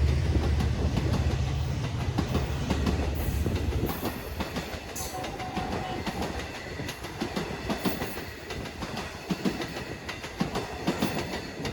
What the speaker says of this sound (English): The first train we catch here is Montauk Branch Train number 6095 on its way to Penn Station.